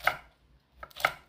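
Two sharp knife chops on a cutting board, cutting red chili peppers, spaced about a second apart, close and crisp with quiet between.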